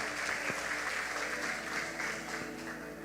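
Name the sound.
congregation applauding the preacher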